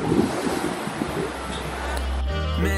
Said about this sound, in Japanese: これはパンツ脱げるぐらいの波だな